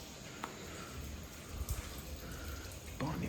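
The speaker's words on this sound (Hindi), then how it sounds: "पानी बह रहा है।" Water running from an open tank at night, a steady, faint hiss-like flow with a few small drips and splashes, constant throughout.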